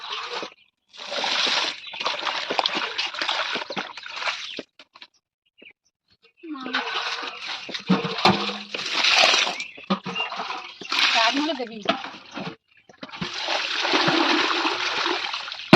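Water from a pipe splashes onto plants in repeated loud bursts of gushing spray separated by short pauses, with a person talking now and then.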